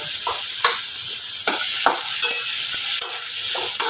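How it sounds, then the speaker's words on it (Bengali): Potatoes fry in hot oil seasoned with turmeric, giving a loud, steady sizzle with repeated sharp scrapes and clatters of stirring throughout. "একদম লাল করে ভেজে নেব আলুগুলো"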